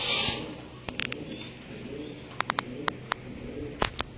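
Fancy pigeons in a breeding loft in Namkhana village, South 24 Parganas, give low, soft repeated coos with scattered sharp clicks and taps nearby.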